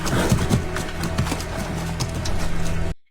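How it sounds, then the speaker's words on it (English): Spooked horses in a Game of Thrones episode, heard loud and close: restless hoof clops and snorting with a brief whinny, under a dense dramatic soundtrack. The sound cuts off abruptly near the end. "The horses seem a little spooked to you."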